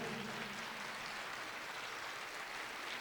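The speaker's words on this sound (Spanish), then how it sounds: "Dele un aplauso al Señor en esta hora, por favor." Congregation at a Spanish-language church service applauding steadily and densely throughout, a continuous wash of clapping with no pause, faint low murmuring beneath.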